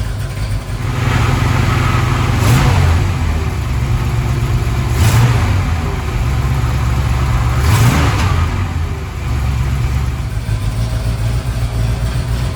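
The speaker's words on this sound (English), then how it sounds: "Let the truck warm up a little bit." A truck engine running near at a steady idle while warming up after a distributor gear change, loud and continuous with a few brief revs rising and falling.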